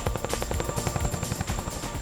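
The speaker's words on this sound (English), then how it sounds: "We talk about the Chinook being a tandem rotor helicopter" A Chinook tandem-rotor heavy-lift military helicopter drones loudly and steadily, its rotor blades producing a rapid rhythmic chop over a deep engine rumble throughout.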